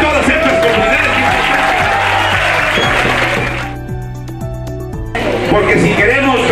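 A crowd at a community celebration for mothers and fathers in La Jagua, Centro, Tabasco, applauds in a hissing wash blended with music and voices; it thins briefly midway before swelling again.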